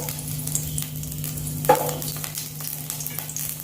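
Garlic fries in hot oil in a pan for Mangalorean-style clam sukka, giving a loud, steady close-up sizzle with a brief utensil scrape partway through.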